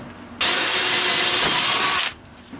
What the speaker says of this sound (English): we'll drill a hole through here and then put this on there and then put the nut on there